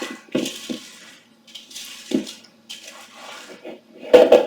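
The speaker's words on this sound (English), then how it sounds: "Scrape the bottom of the bowl so you get all the Rice Krispies covered before it hardens up too much" A spoon works melted marshmallows through Rice Krispies in a bowl, giving soft sticky squishes and crackly scrapes in short bursts separated by quiet gaps, with a heavier clatter near the end.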